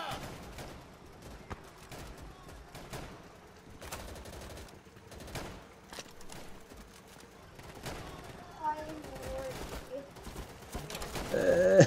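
Scattered gunfire is aimed at the player in the video game Easy Red 2, with repeated cracks and bursts of varying loudness, some close and some distant, and a voice partly over them.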